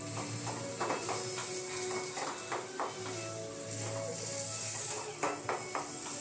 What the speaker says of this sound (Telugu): ఈ బాయిల్ పొటాటో నేను తురిమి పెట్టుకున్నాను పొటాటోస్, అది ఇందులో వేసుకుందాం.